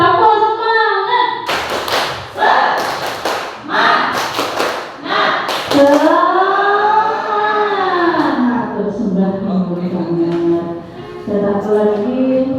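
A group performs the Indonesian spirit clap, tepuk semangat, in a few bursts of rhythmic unison hand claps that alternate with chanted and sung voices, close and lively.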